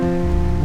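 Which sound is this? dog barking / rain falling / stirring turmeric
rain falling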